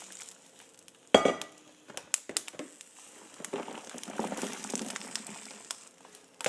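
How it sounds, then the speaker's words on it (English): Habanero and jalapeno peppers are tossed into a skillet with a sharp crinkling clatter, followed by a low, steady sizzle and scattered crackles. There is no talking. "So I'm going to throw these in my skillet."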